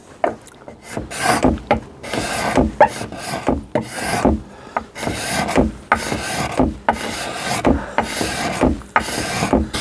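A steel rule, used as a card scraper, is drawn repeatedly across wood, making about a dozen close, rasping scrape strokes in an even back-and-forth rhythm.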